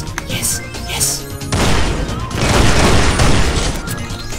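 Gunfire from a gun in Fallout: New Vegas, a dense burst of loud booming shots that swells from about halfway through and keeps going, with a voice talking over the start.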